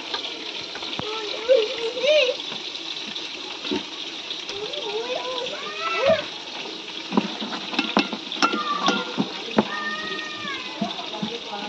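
Chicken pakoras frying in hot oil give a steady, close sizzle and bubbling hiss throughout, under a cat's meows and people talking.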